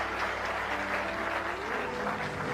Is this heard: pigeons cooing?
no